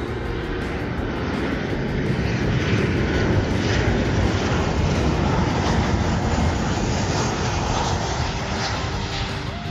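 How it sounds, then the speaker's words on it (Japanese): A loud, steady roar of a jet airplane passing close overhead at a beach beside a runway on Miyako Island, broadband rumble holding throughout with no speech. "飛行機が来ました。"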